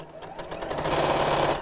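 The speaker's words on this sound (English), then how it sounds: "open them out into the point and sew straight across the base" A sewing machine stitching straight across the base of a fabric door storage pouch, running as a fast, even, close mechanical whir that speeds up and holds steady.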